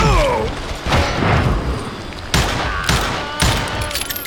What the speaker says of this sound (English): Who's shooting at? We're under fire!